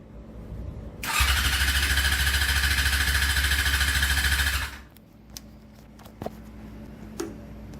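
A Yamaha YZF R6 motorcycle being converted to a cafe racer cranks over on a start attempt, a loud, even, rapid starter churn lasting about four seconds without catching, then dropping to quiet with a few faint clicks.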